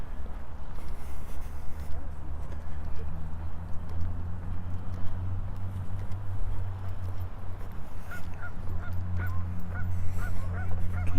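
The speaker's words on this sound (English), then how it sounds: "Geese over there. I hear them honking." Geese honk by a lake on a summer morning walk in Regina, a series of repeated calls from some distance that build near the end over a low outdoor rumble and footsteps.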